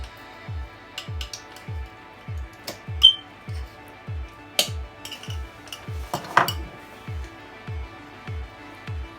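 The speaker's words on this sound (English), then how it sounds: "we're gonna start by mixing the butter with the sugar" Butter and sugar being mixed in a bowl for sponge cake, a steady repeating rhythm of soft low scraping thuds about twice per second, with occasional light clinks of utensil against the bowl, close and fairly quiet.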